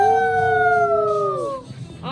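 Children imitating a wolf howl together at an indoor lodge party, a sustained rising-then-falling group howl lasting about two seconds, loud and close, trailing off at the end.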